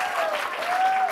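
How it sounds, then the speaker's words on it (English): Audience applause at a poetry reading fills the moment as a continuous, dense roar of clapping, steady and fairly loud from start to finish. "I tried to get up here before the applause ended"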